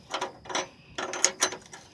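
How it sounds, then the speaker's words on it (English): Quick metallic ratcheting clicks come in two short close bursts as a flare wrench works a fuel filter fitting loose on a Chevrolet Suburban, near and moderately loud with no talking. "Flare wrench gonna go right there like that, and then you break it loose just like that"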